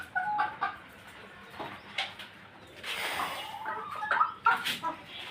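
Several backyard hens cluck and squawk in short irregular bursts at close range, with a louder flurry of calls toward the end and no talking.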